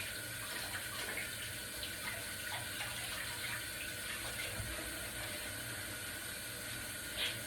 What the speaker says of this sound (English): Give my hands a bit of a wash.